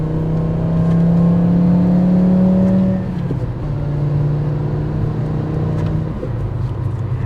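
Volkswagen 2.5 liter five-cylinder engine exhaust holding a loud, steady drone, then dropping in pitch and settling into a lower rumble, with a second dip near the end, sounding close by.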